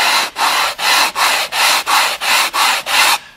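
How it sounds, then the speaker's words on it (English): Wood sanded by hand with a block held at a slight bevel in eight steady back-and-forth strokes, removing saw blade marks from mitered cabinet doors, a loud rhythmic scratchy rasp heard alone. "we sand out our saw blade marks like that"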